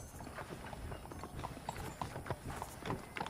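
Steady clip-clop of horse hooves trotting at a quick, even rhythm in the video game Red Dead Redemption, fairly close, with a faint ambient background and no talking.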